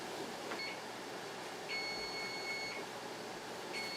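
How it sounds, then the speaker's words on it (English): Kitchen timer going off during home salsa canning, a few short high electronic beeps in separate bursts over quiet room hum, no voices. "that's the timer for the additional 5 minutes without the lid"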